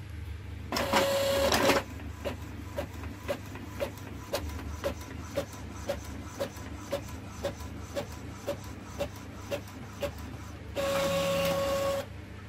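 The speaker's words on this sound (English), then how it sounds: "I gotta try this on my actual printer" Inkjet printer printing a CD label using Windows Me CD label software, with a steady series of evenly spaced short clicks and mechanical ticks between louder whirring feed bursts at the start and end, close and clear.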